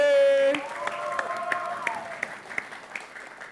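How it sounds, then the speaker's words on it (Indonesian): Studio audience applause at a televised school quiz competition, a brief burst of clapping that fades under a sustained musical tone and scattered sharp claps. "Boleh kita berikan tepuk tangan kembali untuk Regu B."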